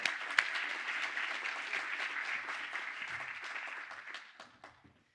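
An auditorium audience at an academic session breaking into applause, a dense even patter of many hands that holds steady and then tapers off to silence near the end.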